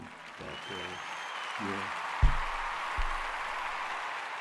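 An applause sound effect plays on a live stream as a soft steady wash of clapping, with the streamer speaking briefly over it.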